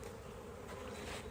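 Honey bees from a keeper's hive buzz in a dense, steady swarm drone, close and continuous with no voices.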